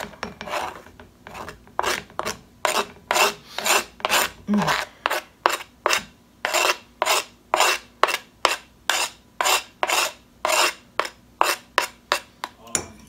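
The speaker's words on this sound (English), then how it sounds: "Sorry that may sound so loud. It's a little plastic cutting board." Rapid, regular chopping on a plastic board, around two strokes per second, loud and close, each knock sharp and clattery; no talking.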